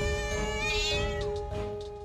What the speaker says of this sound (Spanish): ¿Y ese gato? ¿Por qué llora?